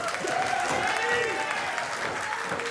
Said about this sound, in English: Crowd electric in the early going.